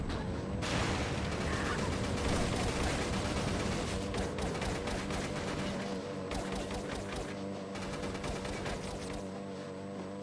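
Rapid chain pistol gunfire from the Pursuit Force video game rattles continuously over a boat engine roar, a dense, loud burst of shots with no break.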